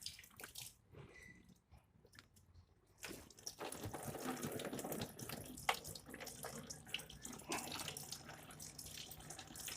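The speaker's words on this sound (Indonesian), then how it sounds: "Oke, kita bilas lagi ya." Tap water runs steadily over a K&N air filter being rinsed, a close, full splashing rush that starts after a few quiet seconds with faint drips and handling noises.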